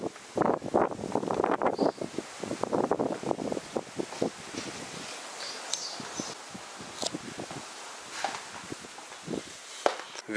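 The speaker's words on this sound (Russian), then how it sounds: "Ветрище сегодня, конечно, гуляет прям вообще жесткий." Strong gusty wind blowing outdoors at a hillside villa in Alanya, Turkey, rushing and buffeting loudly in bursts with rustling and microphone buffeting, easing somewhat toward the end.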